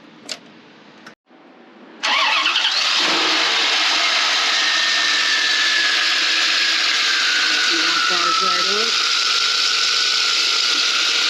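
A 1993 Chevrolet Corvette's 5.7-liter LT1 V8 cranks and fires after a couple of brief clicks, then settles into a loud, steady idle that holds close by to the end, with a faint whine rising and falling.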